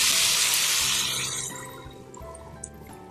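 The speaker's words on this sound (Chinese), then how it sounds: "然后放点热水" Hot water pours into a pan of braising chicken feet, a loud rushing splash that fades within about two seconds into softer bubbling and a couple of small clinks.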